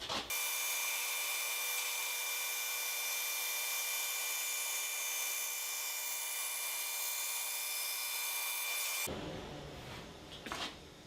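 A saw slowly cuts a thin wood inlay strip, giving a steady high whine that holds for about nine seconds before stopping abruptly, followed by faint handling sounds.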